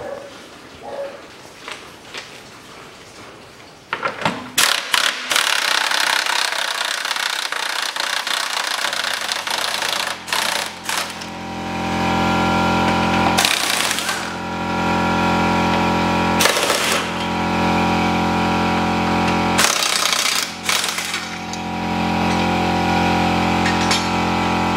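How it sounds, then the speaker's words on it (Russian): Power tool running in bursts to unscrew nuts on the engine mount of a 2003 Toyota Caldina 2.0, a loud buzzing whir that starts and stops several times over a steady mechanical drone. "откручиваем вот этих две гайки"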